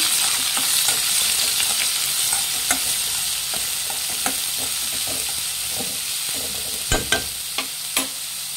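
Onions fry in a pan with peanuts and chana dal, a steady loud sizzle running throughout while a spoon stirs and scrapes in scattered taps, close by and with no talking.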